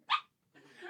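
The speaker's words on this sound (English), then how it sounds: "My dog is a drama king, and he makes yelping sounds when truly nothing bad has happened to him." A dog gives a sharp, brief yelp, then a pause, then a softer whining, whimpering sound, close and fairly quiet.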